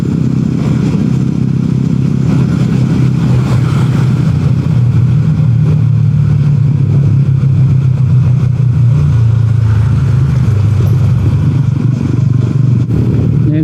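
TVS Ronin 225 motorcycle engine heard while riding on the road, a steady loud mid-pitched drone with low rumble that holds an even, unstrained pace throughout, wind noise mixed in.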